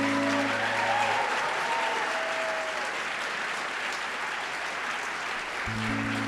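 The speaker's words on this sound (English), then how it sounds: "a round of applause" A live audience gives a sustained round of applause after a presentation, dense steady clapping that fills the room from start to finish with no voices over it.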